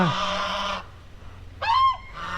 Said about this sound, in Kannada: ನಾನು ಕಂಡಿದೆ ಈ ಬಾತುಕೋಳಿಗಳು